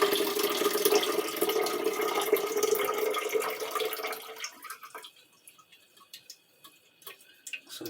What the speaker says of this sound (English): getting ready to pour out the chemicals into its original container